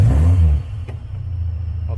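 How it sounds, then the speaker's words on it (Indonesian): A 35-year-old Suzuki Jimny Katana engine catches at once and settles into a steady low idle, a brief burst of starter and firing noise giving way to an even rumble close by. "Oke, sekarang kita akan coba hidupkan mesin ya"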